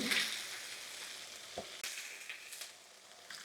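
Chicken pieces sizzle in hot frying oil as they are lifted out, a steady broad crackle with a few sharper clatters and splashes, close and unaccompanied by voices.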